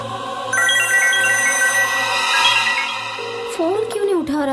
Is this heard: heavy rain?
no